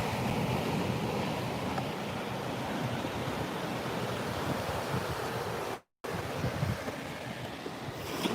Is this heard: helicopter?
no